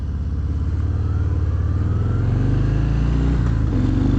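A 2022 Harley-Davidson Fat Bob motorcycle being ridden, its V-twin engine rumbling loud and close with a steady throbbing beat that swells as it accelerates, with no talking.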